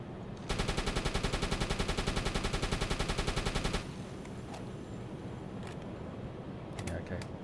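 Rapid machine-gun fire from a U-boat's deck gunner shooting at an enemy aircraft in the Uboat video game, a steady fast burst lasting about three seconds, then a quieter rumbling background with faint clanks.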